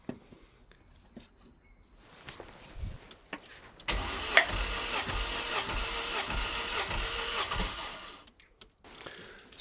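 An MG car engine cranks during a compression test: a steady rhythmic starter whirr with pulsing compression beats runs loudly for about four seconds, framed by quieter clicks and handling noises before and after.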